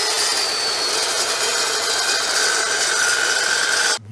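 A saw blade cuts through galvanized metal with a loud, continuous high-pitched grinding whine that holds steady for several seconds, then stops abruptly.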